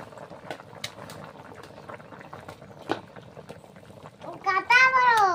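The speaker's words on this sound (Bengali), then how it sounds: "তো তরকারিটা কিন্তু আমার গম গম করে ফুটছে," Tamarind taro curry bubbling hard in a pan, a low steady simmer with scattered pops and splutters throughout, joined near the end by a voice.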